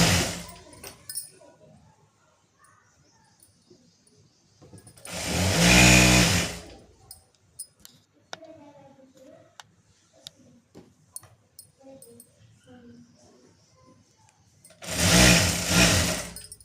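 A sewing machine stitches the leg seam of a straight-cut pant in two loud, whirring runs of about two seconds each, separated by a long stretch of quiet fabric handling.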